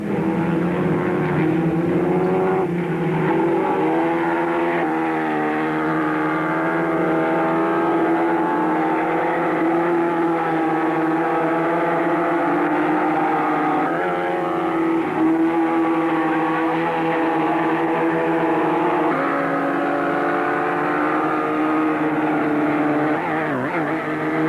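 Formula Vee race cars lapping a track in a 1984 South African race, a continuous layered engine drone from several cars with pitch swells and shifts as they pass, steady and moderately loud throughout.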